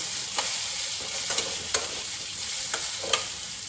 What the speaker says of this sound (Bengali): তাহলে আমার আম ভাজা হয়ে গেছে।